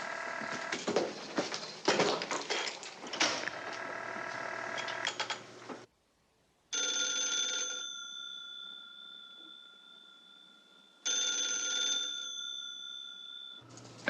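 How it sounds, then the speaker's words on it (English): A telephone bell rings in a 1954 film, two clear bursts of bright metallic ringing separated by a few seconds of quiet, following a stretch of busy clattering noise. "Answer your phone, Blondie."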